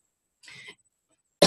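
A single sharp, loud cough bursts out at the end, preceded by a short breathy throat sound, in an otherwise quiet room during a conference talk.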